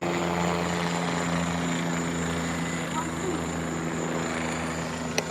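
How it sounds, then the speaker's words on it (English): A hospital helicopter flies overhead at fairly low altitude, its steady rotor and engine drone loud and continuous throughout. "so that's the helicopter for the hospital."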